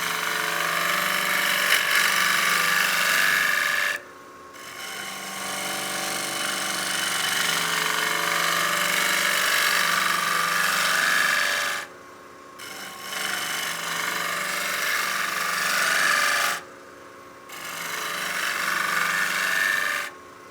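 A gouge scrapes across the side grain of a turned wood platter on a lathe, producing a loud, continuous rasping hiss in long passes broken by three short pauses.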